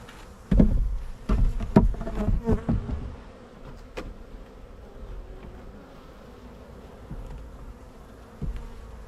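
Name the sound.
honeybees buzzing in hive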